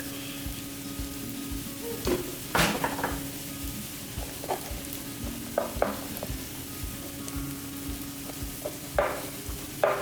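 Onions and garlic frying in a pan for stir-fried rice give a steady close sizzle, with a few sharp clinks and scrapes of stirring scattered through.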